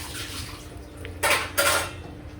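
Lunch of raw banana fry eaten from a plate, two brief clinks and scrapes of cutlery against the dish rising over a quiet room background, close by.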